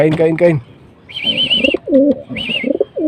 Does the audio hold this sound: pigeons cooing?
yes